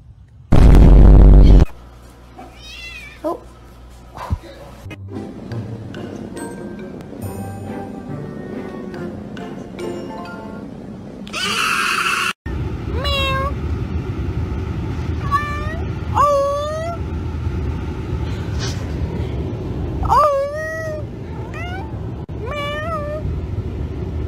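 A cat meows repeatedly and loudly, several drawn-out calls spaced through the second half, after a sharp loud burst at the start and a brief bright noise in the middle.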